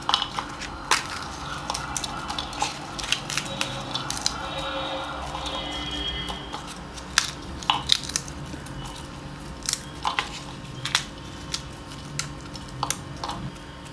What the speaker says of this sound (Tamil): ஒரு 6 பூரி எடுத்திருக்கேன் நான், மசாலா பூரி. அதை உடச்சி விட்டுக்கலாம்.